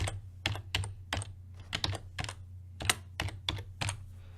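Code is typed on a computer keyboard in quick, close, crisp clicks, bunched in uneven bursts over a low steady hum.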